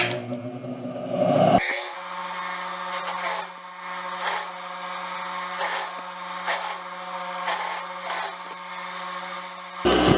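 Sewing machine running steadily while stitching folded bias binding onto a jumpsuit neckline, a continuous close whir with a few slight pauses and speed changes, no voices.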